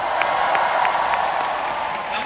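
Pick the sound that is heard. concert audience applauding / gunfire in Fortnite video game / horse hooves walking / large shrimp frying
concert audience applauding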